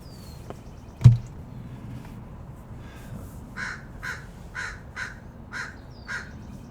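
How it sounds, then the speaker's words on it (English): A crow caws outdoors during a quiet morning, a steady series of about six distant calls spaced roughly half a second apart, following a single sharp knock, with no talking. "Good morning, Mr. Crow, or Mrs. Crow, or good morning, Crow."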